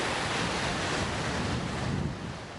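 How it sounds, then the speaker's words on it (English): Gale-force winds and crashing waves on Lake Erie near the Ashtabula harbor breakwall, a loud continuous rush of wind buffeting the microphone over surf, easing slightly at the end, with no voices. "the gale force winds and waves on Lake Erie"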